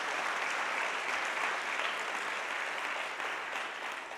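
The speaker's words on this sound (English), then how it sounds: "I think that's worth an applause." Applause from the audience at a leadership awards ceremony honoring a judge, an even, continuous patter of many hands, somewhat distant and moderately soft, with no voices over it.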